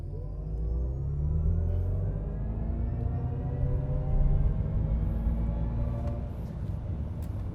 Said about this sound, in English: time to try wide open watts mode and launch the Silverado